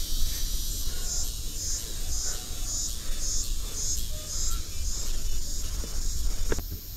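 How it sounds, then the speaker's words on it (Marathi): A cricket chirps steadily and close by along a rocky forest trail at Karnala bird sanctuary, its pulsed high trill repeating throughout over a faint hum of background ambience. "इथे कुठेतरी तो रातकिडा आहे."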